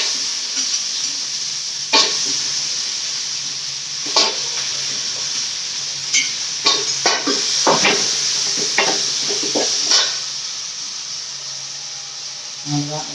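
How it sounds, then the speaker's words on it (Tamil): Vegetables sizzle steadily as they sauté in a hot pan, a constant frying hiss broken by repeated sharp scrapes and knocks of a spoon stirring, close and clear with no talk. "இது கூடவே காயை போட்டு வதக்கிடலாங்க"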